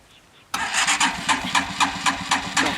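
A motorcycle engine starts suddenly after a quiet moment and settles into a close, pulsing idle with a rhythmic rise and fall.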